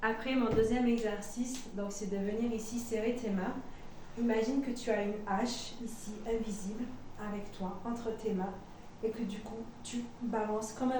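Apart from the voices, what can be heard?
No distinct noise like a dog, phone or traffic.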